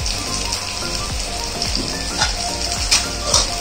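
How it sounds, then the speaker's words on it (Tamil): Squid frying in masala in a pan for a kanava pepper fry, a loud, close, continuous sizzle with crackling pops and occasional stirring scrapes. "இந்த ஸ்டேஜில் நம்ம கனவாவை சேர்த்துக்கலாம்."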